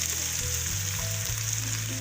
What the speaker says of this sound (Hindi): प्याज हमारा फ्राई हो गया, अब मैं लहसुन अदरक का पेस्ट डालती हूँ।